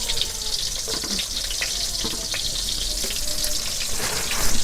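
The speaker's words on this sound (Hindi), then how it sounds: "तो गाइस तेल तो गरम हो गला एबे प्याज एने होचे तो प्याज के देमा" Onions fry in hot oil for a desi chicken curry. A close, continuous sizzling hiss crackles steadily throughout.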